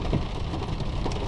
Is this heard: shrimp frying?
no